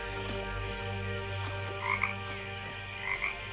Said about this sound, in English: Are these frogs holographic?